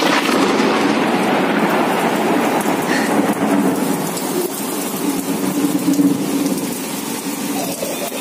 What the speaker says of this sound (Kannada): ಕೇಳಿಸ್ಕೊಂಡ್ರ ಎಷ್ಟು ಜೋರಾಗಿ ಗುಡುಕ್ತಾ ಇದೆ,